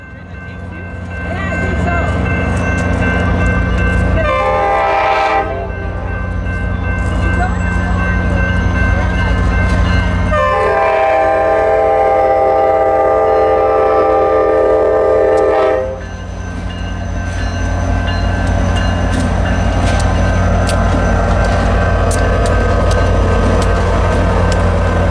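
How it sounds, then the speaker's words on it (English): The Grand Canyon Railway steam train rolls into Williams with a loud, steady rumble, and its horn sounds in two long, sustained blasts close by. "Later, the second train of the day arrives back in Williams."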